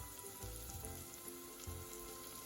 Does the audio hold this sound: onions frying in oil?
yes